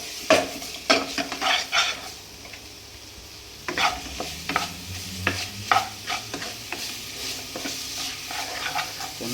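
A spoon repeatedly scrapes and clatters through rice pulao ingredients frying in a pan, with bursts of stirring over a low, continuous sizzle, close and moderately loud.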